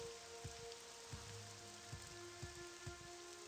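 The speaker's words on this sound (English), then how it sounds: "the rain seems to be letting up." Rain falls in the video game The Elder Scrolls III: Morrowind as a steady, soft patter with regular droplet ticks repeating about every half second over a faint constant hum, and nobody talks.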